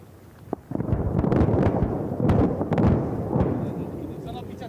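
Deep, rumbling booms of bomb explosions during an air force exercise, rolling one after another, with low heavy thuds and a sustained roar.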